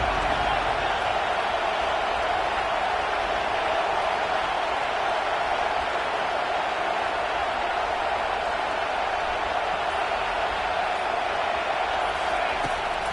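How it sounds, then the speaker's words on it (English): Stadium crowd noise from the NCAA 25 college football video game on a third-down defensive stand: a constant, loud, even roar with no breaks or swells. "Decibels rising as the crowd gets behind this defense on 3rd down."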